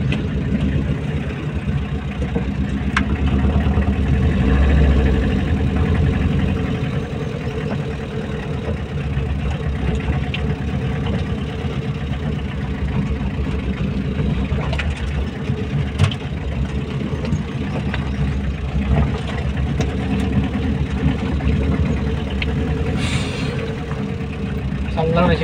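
A tractor engine idles, a steady low rumbling chug that continues throughout the clip, close by, with people talking over it now and then.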